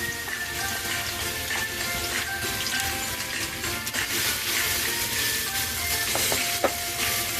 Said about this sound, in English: Now it's time to add the sliced onion.